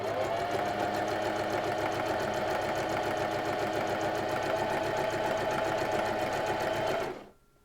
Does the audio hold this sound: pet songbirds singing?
no